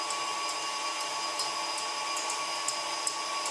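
An electric mixer whips egg whites with sugar for ladyfinger sponge biscuits, a steady high whine running continuously with faint light ticks of the beaters and no talk.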